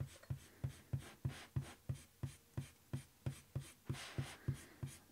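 An eraser rubbing lightly over graphite pencil lines on paper, a soft rhythmic scrubbing of about fifteen quick even strokes, faint and close.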